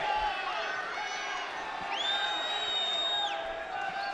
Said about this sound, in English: Crowd getting into it a little bit here.